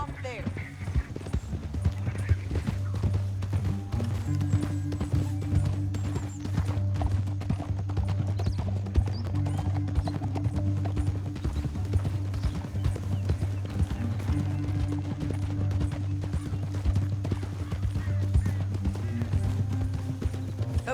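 Horses gallop with steady, close clip-clop hoofbeats in the open-world western game Red Dead Redemption 2, continuing throughout under a low rumble of travel while voices talk over it.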